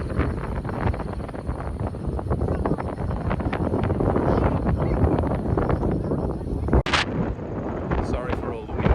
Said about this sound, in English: Sorry for all the wind noise, but it's very windy here.